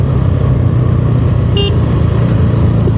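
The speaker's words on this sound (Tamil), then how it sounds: "இதில் ஹார்ன் அடிக்கும் போதே பார்த்துக்கோங்க" Horn on a 2026 KTM Duke 390R motorcycle gives one short beep during a ride, heard over loud, steady engine and wind rumble.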